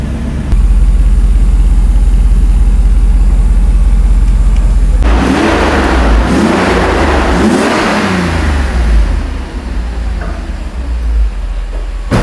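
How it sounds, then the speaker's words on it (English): A Mercedes-Benz E60 AMG with a 6-liter engine fires up loudly close by, rises in a short rev and then settles into a steady, even idle. "It's a 6-liter engine."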